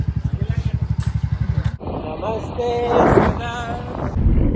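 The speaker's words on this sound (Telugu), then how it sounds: "ఈ స్కూటీ మీద పోదాం మనం ఇప్పుడు." A small scooter engine putters in a fast, even rhythm, then gives way to wind rush and voices talking over the running motor while riding.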